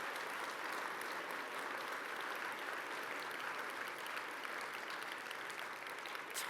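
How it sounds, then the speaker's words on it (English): Warm applause at a scientific society's annual meeting honoring award winners, a dense continuous patter of many hands heard at a moderate distance and holding steady throughout. "Can I please get a warm round of applause for these winners?"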